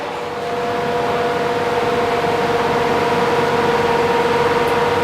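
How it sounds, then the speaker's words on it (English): An MV Agusta motorcycle engine running on factory test machinery gives a steady, loud mechanical drone with sustained tonal hum, continuous and unbroken throughout, with no speech. "they start running the engine for like, I think around 15 minutes"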